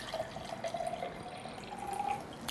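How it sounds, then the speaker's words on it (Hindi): Water is poured a little at a time into two drinking glasses, giving a soft, thin trickle that rises and falls in small pours, faint and close. "पानी दोनों ग्लास में आप पानी डालेंगे"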